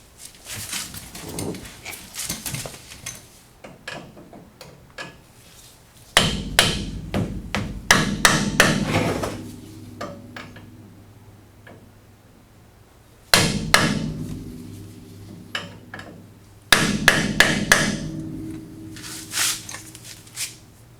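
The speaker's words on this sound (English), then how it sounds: "you're gonna have to stick something in there and pound it back the other way to free that up to loosen it" Heavy, ringing hammer blows on a metal lock tab of a 1969 Chevelle brake assembly during a brake conversion, struck in rapid repeated bursts with pauses between, loud and close with metallic resonance lingering after the strikes.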